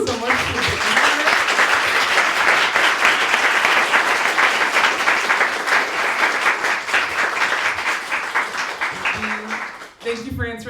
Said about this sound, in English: I'd like to give you all a round of applause.